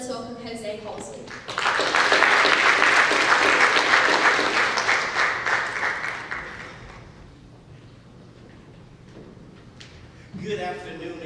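An audience at an Itawamba Community College unity program applauds to welcome a speaker, a dense, loud crowd clapping that swells, holds for several seconds and then fades, with a voice speaking before and after.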